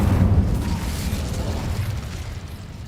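Incendio fire spell cast in the wizarding game Hogwarts Legacy, a close, heavy burst of flame that starts with a deep whoosh and rumble and then fades away over a few seconds.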